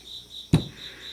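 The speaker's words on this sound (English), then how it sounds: "Pardon the crickets making music in the background too." Crickets chirp in a steady, continuous high trill in the background, with one brief low thump partway through and no talking.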